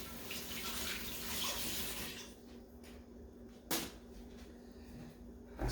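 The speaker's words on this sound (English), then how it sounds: "Wash my hands here." Tap water runs steadily into a kitchen sink as hands are washed, a loud broadband rush for about two seconds that then drops to a quieter trickle, with a brief clunk near the end.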